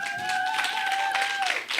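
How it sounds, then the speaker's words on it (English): Conference audience applauding at a green transition event, a continuous close rush of clapping with a steady high tone running underneath. "Applause."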